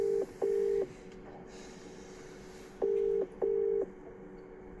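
A WhatsApp call's outgoing ringing tone, with two pairs of short beeps separated by a pause and a steady faint tone underneath.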